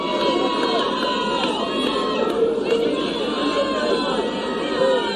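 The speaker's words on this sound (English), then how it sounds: "I believe the people who are making noise are USA fans." USA fans make steady crowd noise at a women's rugby sevens championship final against Jamaica, a continuous hum of chatter and shouts carrying across the stands at moderate loudness.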